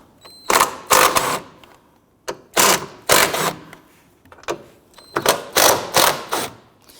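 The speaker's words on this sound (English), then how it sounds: "let's go ahead and loosen the 13mm nuts" A ratchet loosening the 13mm strut top nuts on a Dodge Charger, heard as several close, loud bursts of rapid clicking separated by short pauses.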